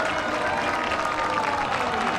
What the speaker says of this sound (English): The large crowds on the finishing chute showed their appreciation for the efforts of the Spaniard